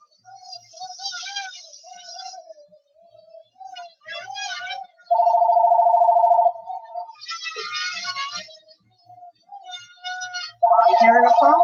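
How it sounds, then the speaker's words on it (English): A telephone rings in two loud buzzing bursts, each about a second long, between stretches of high, animated speech from nearby voices. "I'm hearing a phone, and I'm not seeing a phone."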